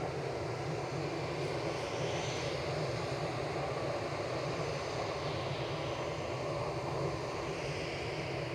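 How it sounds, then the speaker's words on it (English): A Ryanair airliner arriving from Oslo at Manchester Airport, its engines a steady, moderately distant broadband roar holding level throughout with no voices. "Next in is Ryanair from Oslo, Sun 37800."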